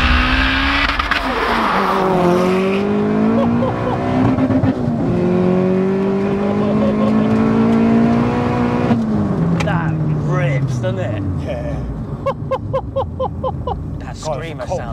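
A tuned, fully built 533 bhp Vauxhall Astra VXR engine revs hard, climbing through gears with a loud, high, screaming tone, then drops and rises again, heard from inside the car.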